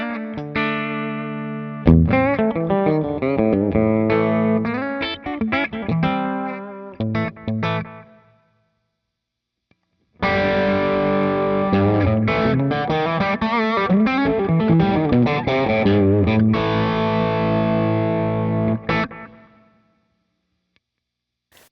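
Electric guitar played through Wampler pedals on a country-style pedalboard with echo and a touch of reverb, bright distorted chords and picked phrases in two loud bursts separated by a brief pause, trailing repeats fading at the end.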